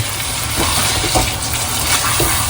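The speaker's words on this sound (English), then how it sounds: "just to rinse the blender, I'm going to add some water to it" Water poured from a tap into a blender jar to rinse it while cooking colocasia curry, a steady close splashing fill over several seconds with no talk.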